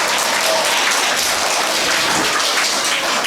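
Dense, steady audience applause fills a school prize ceremony, many hands clapping continuously at close range throughout.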